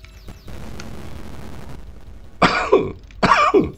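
A person coughs twice in quick succession, loud and close, after a stretch of muffled background noise.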